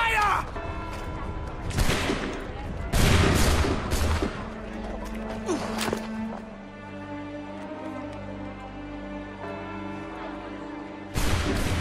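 Musket volley gunfire in Assassin's Creed III, several loud booming blasts in quick succession near the start, followed by lingering rumble, with voices talking.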